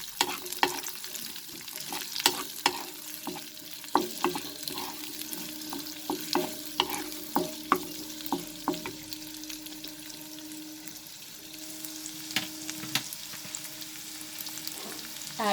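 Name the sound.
onions sautéing in a pan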